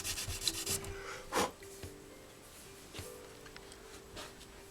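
A Yamaha RZ350 motorcycle part is hand-sanded in short, irregular rasping strokes, quiet and close, with a couple of brief louder scrapes and soft pauses between passes.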